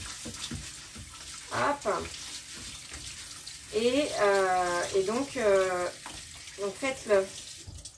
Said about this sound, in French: Il faut rincer le riz, c'est important pour ça joue sur la cuisson.